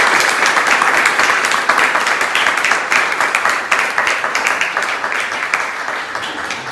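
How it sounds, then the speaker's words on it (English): A room of people applauding the artist Foon Sham at a juried art exhibition talk, dense loud continuous clapping that slowly thins out toward the end. "Would you give a round of applause for Foon Sham?"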